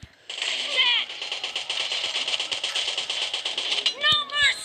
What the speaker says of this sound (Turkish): Ondan sonra adamlar mermi o kadar sıkıyor. Mermileri sanki sınırsız.